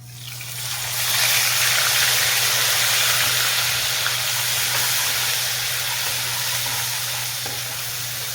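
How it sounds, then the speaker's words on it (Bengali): Chopped medium-sized onion sizzling in a pan over a high gas flame: a steady, broad frying hiss that swells up after the first second and holds fairly evenly, close and alone, with no talking. "পেঁয়াজটা একটু গোল্ডেন ব্রাউন হওয়া অবধি এটা আমি ফ্রাই করে নেব।"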